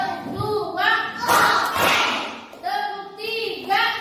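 A class of children clapping hands in a counted rhythm, a few sharp thumping claps in quick succession between a teacher's spoken prompts and children's voices.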